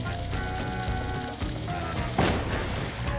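Bobbery's bomb goes off in Paper Mario: The Thousand-Year Door, one loud sudden explosion cutting through steady game music and then fading out.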